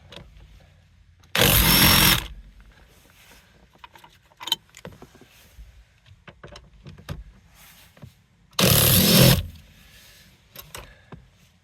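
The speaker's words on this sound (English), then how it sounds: "this is a Torx 50, and we're gonna undo these seat bolts" A car seat bolt is undone with a Torx 50 tool on a Chevrolet Volt. Two loud bursts of power-tool whirring, each lasting about a second, are separated by quieter clicks, taps and handling noises.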